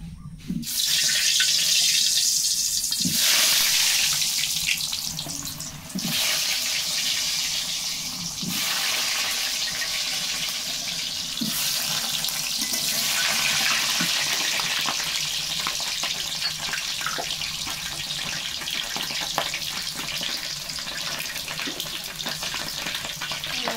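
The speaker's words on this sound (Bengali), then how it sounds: "তেল গরম হয়ে গেছে, এখন আমি জিরে আর তেজপাতা ফোড়ন আগে দেবো না, এখন এই আলুগুলো আগে ভেজে নেব।" Potatoes frying in hot oil, a steady broadband sizzle lasting throughout with occasional clinks and stirring knocks, close and fairly loud, with no talk.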